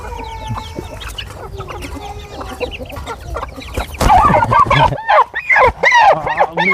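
Young rooster chicks offered for sale give a steady stream of clucks and chirps, joined by a louder burst of calls near the end, with voices talking under them.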